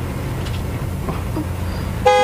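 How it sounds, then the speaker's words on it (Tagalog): A car horn honks once near the end, a short loud blare over steady road and engine noise. "Saan mong nagsigig busina?"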